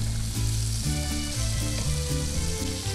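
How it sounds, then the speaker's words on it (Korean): Slices of pork belly topped with sliced elephant garlic grill in Gangjin, South Korea, giving off a loud, steady sizzle over a low backing of music. "지글지글지글 삼겹살 한 점에 코끼리 마늘 송송 썰어 올려 구워내면"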